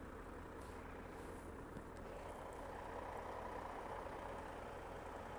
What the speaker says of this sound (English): Big truck and he pulled right across to the left.